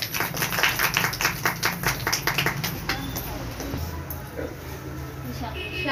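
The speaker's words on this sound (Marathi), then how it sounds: "टाळ्या वाजवा।" An audience at an appointment ceremony of a disability welfare organisation in Aurangabad claps in quick rhythmic bursts for a few seconds, then the applause fades into room murmur with voices talking.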